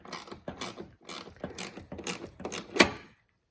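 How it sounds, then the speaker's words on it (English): Ratchet clicking as it turns the headlight aim adjustment bolt on a Chevy Equinox, in several quick bursts of close mechanical ticking with brief pauses and a sharper final click. "It's almost like a quarter inch for every time I turn the ratchet."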